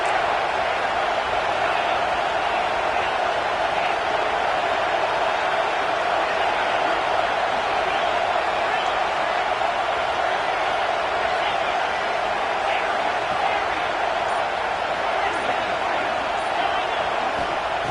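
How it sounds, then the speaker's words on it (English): Fired-up college football stadium crowd at a Texas A&M versus Pitt game, a dense, steady roar of noise holding for the whole stretch, with an announcer talking over it. "this crowd is fired up. Listen to this noise here."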